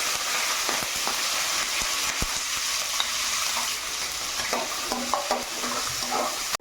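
Potatoes and green chillies fry in a pan for upma, with a steady sizzle and repeated scraping, clinking stirs from a utensil, close and fairly loud, no talk.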